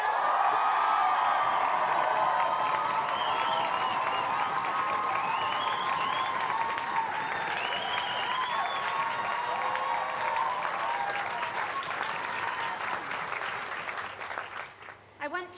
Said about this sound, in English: So this is your first chance to practice cheering now.